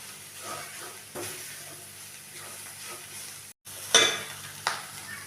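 Masala cooking in a pan for homemade momos, a soft steady sizzle with occasional stirring scrapes and a couple of louder clatters near the end.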